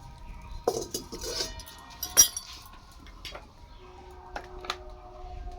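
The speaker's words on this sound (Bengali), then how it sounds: "আবার কড়াই বসিয়ে দিচ্ছি উনুনে" A metal wok is set down on a kitchen stove, giving a few sharp clinks and metallic knocks spread across a quiet stretch, with a faint ringing tone between them.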